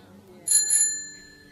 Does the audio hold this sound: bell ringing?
yes